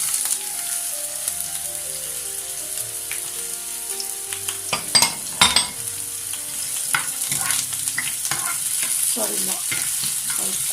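Onion and green chillies stir-fried in hot oil for restaurant-style chilli mushroom, a steady close sizzle with scraping spatula strokes and a few louder clatters against the pan partway through.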